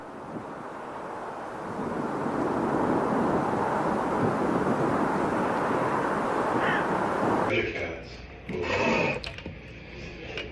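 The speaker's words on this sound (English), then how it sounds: "They will sometimes do extreme vertical takeoffs to test the safety of the plane." A commercial plane roars loudly on a steep takeoff, a dense sustained engine rumble that cuts off abruptly into wind buffeting and scattered noise near the end.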